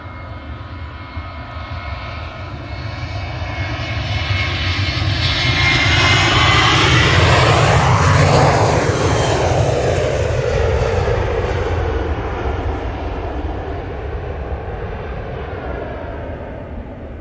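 A Qatar Airways Boeing 787 jet takes off close by, its broad engine roar swelling to a loud peak at mid-clip and then fading slowly as the airliner climbs away, with no voices.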